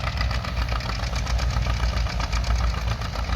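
A small Ford tractor engine runs steadily while plowing a field, a loud, continuous low rumble with a slight knocking pulse and no talk.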